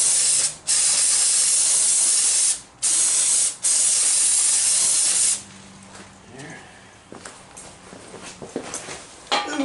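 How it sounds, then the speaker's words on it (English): Several long bursts of aerosol brake cleaner hiss loudly up close with brief pauses between, followed by quieter clicks and handling noises. "let's spray some brake clean on here and see if we can't clean up some of this"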